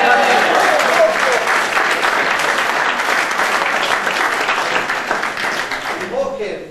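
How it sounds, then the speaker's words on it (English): Loud, close round of applause from a live audience at a Donegal village gathering before a Croke Park final, with dense clapping that holds strong and then tapers off, while a voice starts to speak at the very end. "Nice round of applause."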